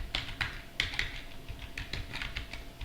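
Quick bursts of computer keyboard typing, close and fairly quiet, with irregular clusters of key clicks and short gaps between them as a command is entered.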